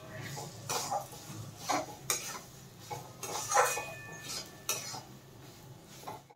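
Soybean and fresh green chili frying in a pan for soybean bharta, heard as repeated clinks and scrapes of a metal spoon against the pan over a faint background sizzle.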